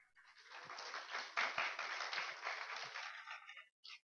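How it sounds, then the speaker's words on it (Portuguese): An audience at a game development event applauds, a fairly faint burst of clapping that builds, holds for about three seconds, then stops abruptly. "Então, palmas aí para o Rodrigo."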